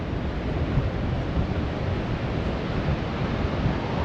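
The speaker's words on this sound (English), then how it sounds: "Wind is blowing." Strong wind of about 25 knots roaring across a Portugal beach, with surf from whitecapped waves blended into a dense, steady, loud rush and microphone buffeting, no voices.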